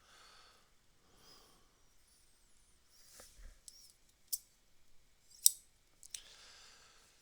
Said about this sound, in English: I am a bad guy rocking around here with scissors